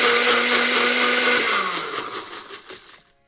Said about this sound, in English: Put them into the blender and put a little bit of water and blend them well